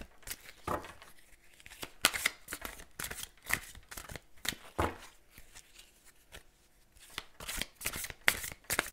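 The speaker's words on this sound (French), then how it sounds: "Donc, je bats les cartes." Playing cards shuffled by hand for a cartomancy reading, a run of crisp riffling bursts and papery slaps repeating irregularly, close and fairly loud with no one speaking.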